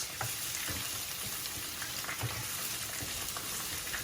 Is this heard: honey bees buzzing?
no